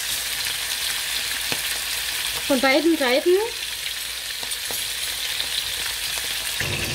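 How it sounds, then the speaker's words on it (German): Chicken breasts frying in hot oil in a pan, a steady broadband sizzle throughout with a short burst of brighter crackling midway, and a brief spoken phrase over it. "Und darin werde ich jetzt meine Hähnchenbrüste anbraten."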